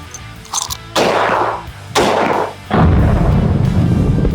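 Three loud, close shots ring out about a second apart from a powerful 1943 rifle barrel firing 7.62 armor-piercing incendiary rounds at an armor plate, each crack followed by a long booming decay.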